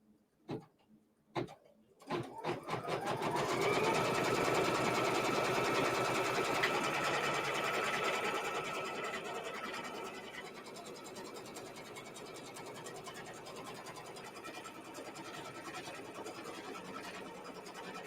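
An embroidery sewing machine stitches down fabric held in a hoop for a quilt-along block, starting with a few clicks and then running in a steady, close, fast mechanical whir that eases slightly in loudness partway through.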